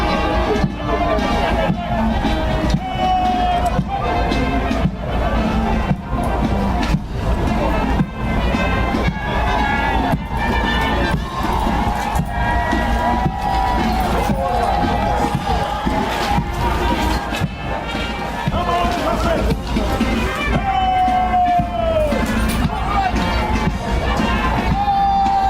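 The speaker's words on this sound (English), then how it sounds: "I do hope that our listening audience is hearing the cries of the crowd" A large crowd at a national independence military parade makes a constant roar of cheering and babble, with sharp rhythmic beats like marching or drums cutting through and voices mixed in.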